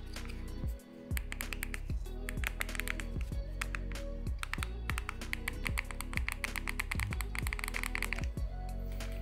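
Small plastic keys on an MRSVI W3 mini keyboard and air-mouse TV remote are tapped in a fast, steady run of close, crisp clicks that last throughout, with no talking.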